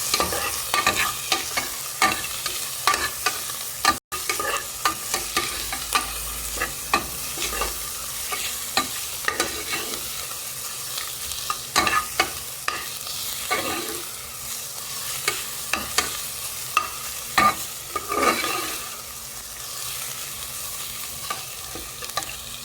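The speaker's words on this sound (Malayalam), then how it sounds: "ഇതിലേക്ക് ജിഞ്ചർ ഗാർലിക് ചേർത്ത് കൊടുക്കാം. ഇതൊന്ന് നന്നായിട്ടൊന്ന് വഴറ്റിയെടുക്കാം." Ginger and garlic sauté in a pan for cauliflower pulao, sizzling steadily in oil while a spoon scrapes and stirs in irregular strokes, close and continuous throughout with no voices.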